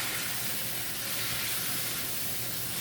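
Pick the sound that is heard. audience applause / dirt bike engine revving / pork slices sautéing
pork slices sautéing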